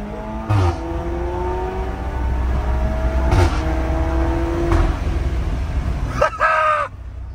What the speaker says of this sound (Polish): pedał w podłogę mu teraz daję dla was